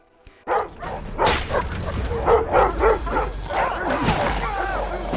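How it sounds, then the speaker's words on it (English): A sled dog attacks a man in a drama scene, with barking, yips and whimpering in repeated bursts, loud and close, mixed with struggling voices and commotion. "Sidney releases one of Zeb's sled dogs, which attacks and kills the bearded inmate."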